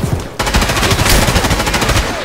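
Rapid automatic gunfire in Escape from Tarkov, a dense, loud burst of closely spaced shots running almost continuously after a brief pause at the start.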